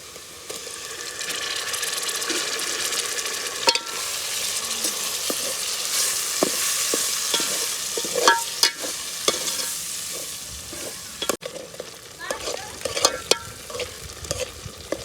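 Tomatoes tipped into a hot pan and stirred for spiny gourd curry, a steady close sizzle of frying with repeated scraping and clacking of the stirring spoon, no voices.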